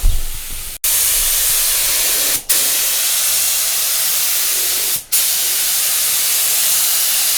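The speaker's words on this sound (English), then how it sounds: "we've got the last layer of paint going on now" A spray gun lays down the final paint coat on an R32 Skyline drift car, loud continuous hissing spray bursts broken by three brief pauses, no speech.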